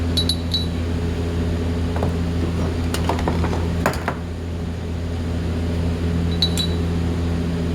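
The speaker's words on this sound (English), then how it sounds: "So here I'm going to remove my M6 bolts from the bottom." Clicks and ratcheting taps come from removing M6 bolts on the base of a Samsonas gravel-spec rally coilover canister, scattered metallic ticks over a steady mechanical hum.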